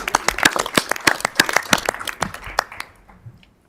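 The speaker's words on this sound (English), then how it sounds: "So let's give them a round of applause for volunteering today." Scattered clapping from a small group at a school board meeting, a few seconds of hand claps that thin out and fade to quiet.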